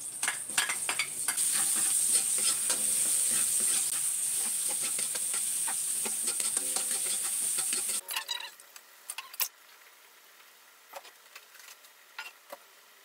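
Garlic sizzles and crackles loudly in a small amount of cooking oil, with occasional stirring scrapes, then the frying drops away to quieter scattered pops and clicks near the end.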